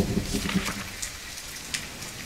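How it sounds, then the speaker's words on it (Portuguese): Steady rain falls in the survival video game The Forest, a continuous broadband hiss of drops on surfaces with a few brief low thumps, heard alone without talk. "E talvez a chuva vai parar."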